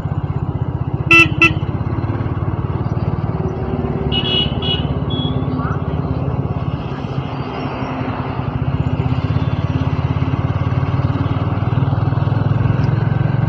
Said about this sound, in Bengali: খুব ব্যস্ততম রাস্তা।